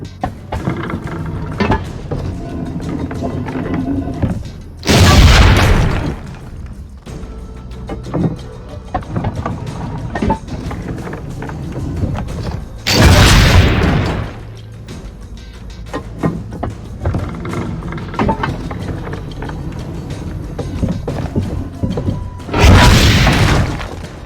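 Cannon shots at target dummies in Assassin's Creed Brotherhood, three loud booming blasts spaced several seconds apart, with quieter game ambience and scattered clunks between them.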